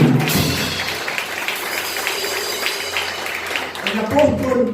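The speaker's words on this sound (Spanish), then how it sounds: "Bríndale un aplauso." A church congregation applauding during a sermon, with continuous clapping from many hands and a voice speaking over it toward the end.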